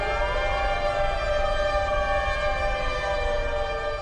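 A siren wails steadily and loudly, its layered tones sliding slowly in pitch and holding without a break.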